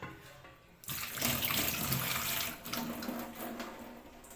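Running tap water pours steadily into a bottle, a broadband rushing splash that starts abruptly after a brief quiet moment and continues to the end.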